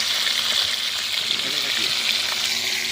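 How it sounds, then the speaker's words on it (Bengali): Snakehead fish fries in hot oil at an outdoor cooking spot beside a pond, giving a continuous close sizzle and hiss that stays steady throughout. "আর এই আমাদের শোল মাছ ভাজা হচ্ছে।"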